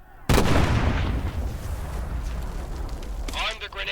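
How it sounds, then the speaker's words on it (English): Grenade blast in the Medal of Honor VR war game: a sudden loud explosion with a long rumbling tail, followed by scattered clatter and game sounds toward the end. "Throw the grenade, Lieutenant."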